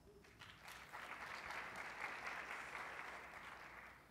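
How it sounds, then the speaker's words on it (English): Conference audience at a Python lightning talks session breaking into applause, clapping rising after a brief pause, holding steady for a few seconds, then tapering slightly, fairly faint overall. "Let's give him a round of applause."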